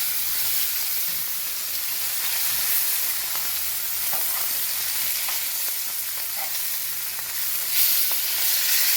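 Salmon fillet searing in a hot pan, giving a steady, loud broadband sizzle of frying oil that holds throughout with small crackles and pops, no voices.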